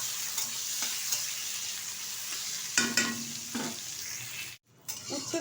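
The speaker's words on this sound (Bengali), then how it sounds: "তাই লবণ ছাড়াই ভালোভাবে ভেজে নিচ্ছি উচ্ছেটাকে।" Bitter gourd fries in hot oil without salt, a continuous sizzle with a few sharp scraping stirs of a spatula against the pan, close and alone, and one brief cut near the end.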